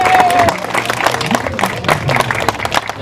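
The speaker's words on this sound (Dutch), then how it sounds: "Geef hem eens een daverend applaus." A crowd at an anniversary celebration gives the deputy mayor a loud, full round of applause, with dense clapping and some cheering and voices mixed in throughout.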